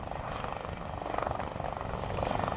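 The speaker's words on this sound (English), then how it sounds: "the Lynx aircraft, in company with an Apache as top cover, arrives to deploy a small recce force" A Lynx helicopter arrives with an Apache at an air show, rotors thudding in a steady, dense drone that stays fairly distant and even throughout.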